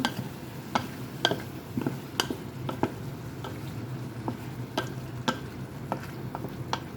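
Squid adobo is stirred in a pan, with sharp utensil taps and clicks over a soft, steady simmering hiss.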